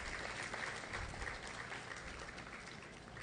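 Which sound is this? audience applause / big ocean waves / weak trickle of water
audience applause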